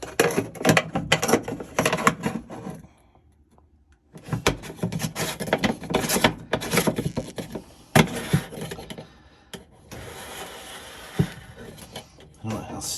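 A filter being screwed back into a Whirlpool washer drain pump, with bursts of close plastic scraping and ratcheting clicks separated by short quiet gaps and occasional knocks.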